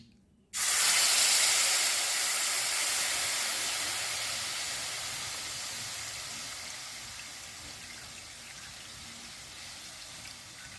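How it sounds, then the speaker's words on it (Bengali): Nolen jaggery poured into a hot wok on a home stove gives a sudden loud hiss that starts within the first second, then eases slowly into a steady, softer sizzle that lasts throughout, with no voices. "এবার কড়াইতে আমি এই নলেন গুড়টা দিয়ে দেবো।"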